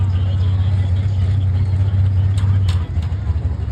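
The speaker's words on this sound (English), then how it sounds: "Driving a 1992 Chevrolet" A 1992 Chevrolet 3500 truck at a tractor pull gives a loud, steady low engine drone close by, with a brief dip near the end and faint crowd or announcer sounds above it.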